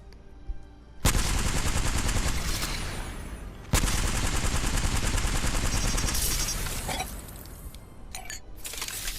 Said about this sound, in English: I think this is the final LMG now